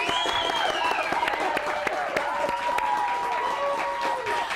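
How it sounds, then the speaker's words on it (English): A rowdy studio audience at a live television show claps and cheers in a continuous, dense burst, with voices mixed into the applause and a few whoops rising above it. "I didn't even have to tell them to give themselves a round of applause."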